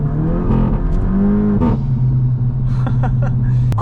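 A tuned VW Golf revs, then the exhaust lets out a blap and a string of pops and crackles as the throttle closes. The engine drone is loud and close, with sharp bangs scattered over the burble.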